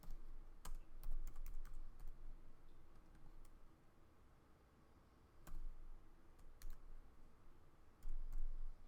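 Sparse keystrokes on a computer keyboard while a SQL table definition is typed, quiet clicks coming in short bursts with pauses between them against a faint background hiss.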